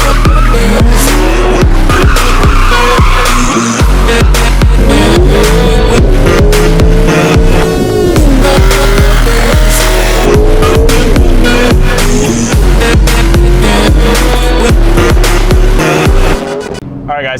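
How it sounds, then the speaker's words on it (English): Loud, close Chevrolet Camaro ZL1 V8 with headers and Corsa exhaust, revving and pulling hard through rising and falling engine notes with sharp cracks and pops, continuous throughout. "you cannot beat the sound of a ZL1 with headers and Corsa"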